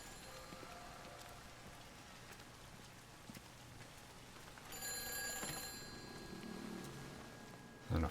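Telephone ringing inside the game Everybody's Gone to the Rapture, a faint electronic ring over steady rain-like ambience that grows louder midway and continues to the end.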